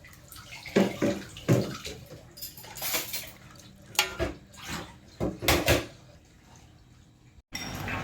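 Salt brine for salted eggs is poured through a strainer in a home kitchen, giving a few splashing, trickling bursts with light clinks of utensils against a bowl, fairly close and without talk.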